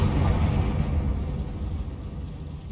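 A Confringo blasting spell explodes in Hogwarts Legacy, a loud, close, rumbling boom that fills the low end and slowly decays over a couple of seconds, with no voices.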